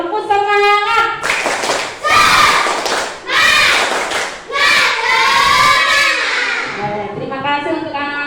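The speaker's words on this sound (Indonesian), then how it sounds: "boleh tepuk tangan dulu untuk kita hari ini." A class of children chants loudly while clapping in rhythmic bursts in a classroom, voices rising and falling between the claps.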